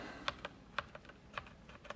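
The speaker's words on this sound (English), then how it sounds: "The most important thing with the keyboard, of course, is how it sounds." Typing on a Genesis RX85 keyboard: a run of crisp, close key clicks at an irregular rhythm, several sharp strokes standing out over a quiet background.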